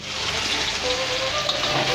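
Winter vegetables fry in oil in a pan for a vegetable khichuri, giving a soft, steady sizzle at moderate loudness throughout.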